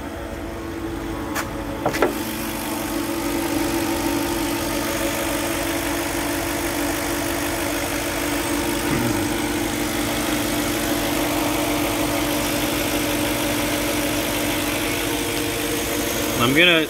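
A car engine idles steadily, recorded from beneath the vehicle near the bottom end, with a constant low rumble and a few clunks and scrapes as someone shifts position nearby.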